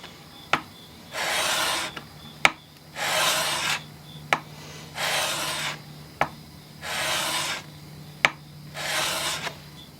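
A knife blade is drawn across a sharpening stone in slow, regular scraping strokes, about five passes, with light taps where each stroke begins.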